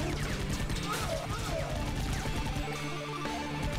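Turret gunfire in the video game Iji: dense, continuous bursts of rapid synthetic shots and crashing impacts over a steady game soundtrack, loud and sustained across the whole stretch.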